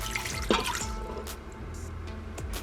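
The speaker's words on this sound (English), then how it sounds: "And then to the eggs, I'm gonna pour in 1 cup of water." Water pours and drips into a pot of eggs, a cup's worth going in during Instant Pot meal prep, with a few splashy trickles and separate drips heard up close and without talk.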